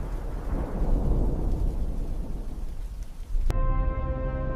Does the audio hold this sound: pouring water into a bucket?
no